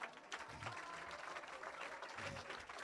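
A church congregation applauding during a service in Evry, a steady, moderately distant patter of clapping hands throughout with a little crowd murmur.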